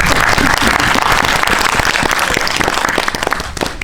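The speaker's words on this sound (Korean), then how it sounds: "두 분께 좀 박수를 한번 보내드릴까요?" Audience applause for two guests at a special film screening Q&A, a dense burst of many hands clapping loudly that thins slightly toward the end.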